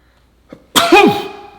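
Repeated sneezes at close range: a small sharp intake, then a loud, forceful sneeze burst with a voiced tail, and the start of another at the end.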